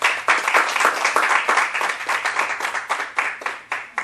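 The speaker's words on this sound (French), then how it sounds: "Et pour cela, je pense qu'on peut l'applaudir." An audience at an investiture ceremony for a COJEP France delegate bursts into sustained applause, dense clapping that swells and pulses steadily for about four seconds with no voices over it.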